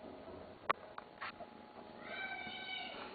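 A small kitten gives a few soft meows, with faint thumps and rustling nearby, quiet and close.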